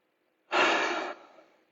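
A single deep breath drawn in and let out slowly during a guided relaxation practice, close and clear, with a soft, fading tail at the end of the exhale.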